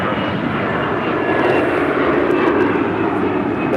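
Loud, sustained engine roar of an airliner taking off from runway 25 right at LAX, close and continuous throughout.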